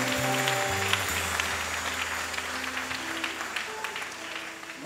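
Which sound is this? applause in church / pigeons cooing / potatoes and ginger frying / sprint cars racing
applause in church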